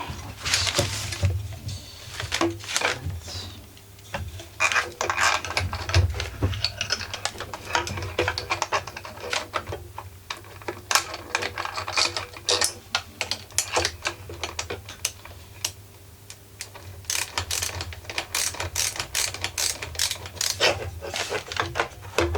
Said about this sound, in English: So we'll start with the big 8mm screw.